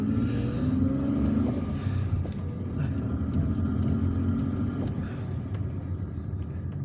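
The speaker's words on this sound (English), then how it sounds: "We started driving back to Telemly." A car drives through the city streets of Algiers with a steady engine rumble and road noise, a continuous, fairly loud interior drone with slight swells as it moves through traffic.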